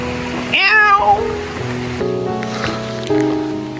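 A kitten gives one clear, close meow with a falling pitch near the start, outdoors along a hillside walking route, followed by quieter background rustle and a low steady hum.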